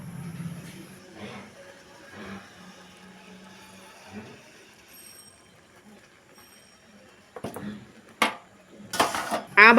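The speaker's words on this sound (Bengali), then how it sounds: "আবারও নেড়েচেড়ে মিশিয়ে নেব।" Peanut paste being stirred and mixed into a yardlong bean mash: soft scraping for a while, then a few louder close clinks and clatters of a utensil against the bowl, with faint voice at times.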